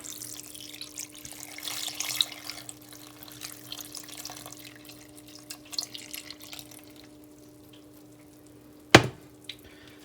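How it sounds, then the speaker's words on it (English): A pint of milk is poured into a soup pot while making a winter warmer soup, giving a steady liquid pour with a few soft splashes and clinks, plus a brief sharp knock near the end. "So to that we're going to add a pint of milk"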